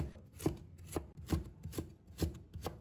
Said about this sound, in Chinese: 胡萝卜丝我们也要切细一点，不要切得太粗。